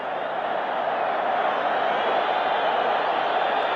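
Football stadium crowd at a Boca Juniors versus River Plate match in the late 1980s, a continuous loud roar of massed voices that holds steady throughout with no break.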